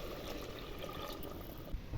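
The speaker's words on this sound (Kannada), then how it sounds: "ನಾವು 2 ಗ್ಲಾಸ್ ಅಕ್ಕಿ ಹಾಕೊಂಡಿದ್ದೀವಿ, 4 ಲೋಟ ನೀರು ಹಾಕೋತಿದ್ದೀವಿ" Four glasses of water pour into a cooking pot holding two glasses of rice, a brief, steady, soft gush heard close with no talk.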